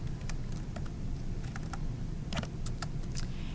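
Fast, light typing on a computer keyboard, heard up close and fairly quiet: scattered key clicks in short bursts over a low background hum.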